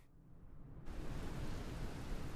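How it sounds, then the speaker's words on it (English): Simulated rain in Microsoft Flight Simulator hisses as a steady broadband wash, starting softer and then jumping louder and fuller after a moment, with no voices. "Why does it have to be raining?"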